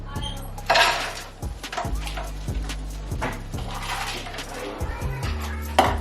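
Frozen O'Brien potatoes from Kroger hit a frying pan in a series of sharp clattering, rattling impacts with sizzling scatter, close and fairly loud, as the pieces tumble and settle over several seconds.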